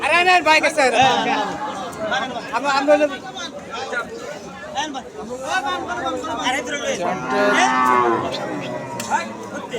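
Cattle low and moo repeatedly at the Hazratpur Paragram village cattle market, loud and close, with overlapping animal calls amid crowd chatter and people talking throughout.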